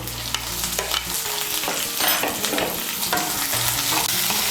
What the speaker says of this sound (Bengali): পেঁয়াজ কুচি, টমেটো কুচি, আদা, রসুনগুলোকে হালকা করে একটু ভেজে নিয়েছি।